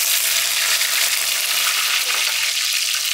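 Curry leaves sizzle and crackle steadily in hot oil already holding cumin seeds and dried red chillies, a dense, continuous frying hiss throughout with no talking.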